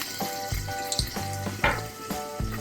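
Garlic sizzles in hot oil in a pan for a stuffed capsicum curry. The frying hiss runs steadily, broken by a few brief clinks and knocks of a spoon against the pan. No one speaks.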